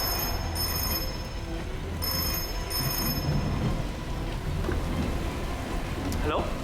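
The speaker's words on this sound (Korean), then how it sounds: "폭풍우가 몹시 치던 날," Heavy storm rain pours steadily as a loud, dense wash, with low rumbling swells like distant thunder and a brief higher sweep near the end.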